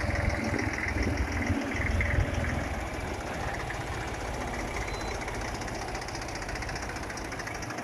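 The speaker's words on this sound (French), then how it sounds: "des tracteurs qui vont prendre ce ferry" A tractor's steady low engine rumble idles continuously near a ferry, a heavy diesel drone with a faint mechanical knock, no voices over it.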